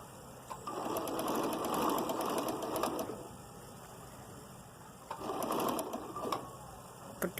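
A sewing machine stitches a strip on a shirt in two bursts of fast, even whirring, with a short pause between them, recorded close and fairly quiet.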